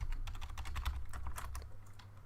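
Quick bursts of keystrokes as a password is typed on a computer keyboard, close and fairly soft over a low background hum, with no talking.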